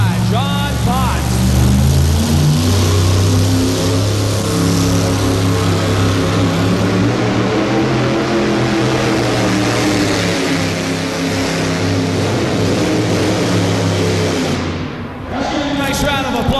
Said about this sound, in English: Excalibur King, a 1939 Dodge panel truck.